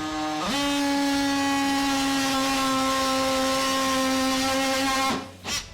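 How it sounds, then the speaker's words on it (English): A Dewalt oscillating multi-tool slices through plastic with a loud, steady buzzing whine that rises in pitch as it spins up, holds level for about five seconds, then winds down and stops. "let's start slicing and dicing through that plastic"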